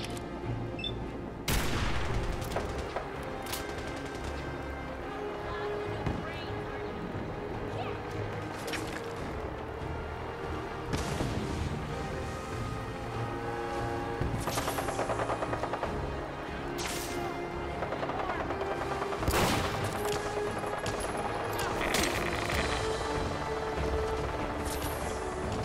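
Rapid bursts of gunfire from an enemy gunner, Captain Haynes, in a video game, firing in repeated volleys with sharp loud cracks over a dense, continuous battle din.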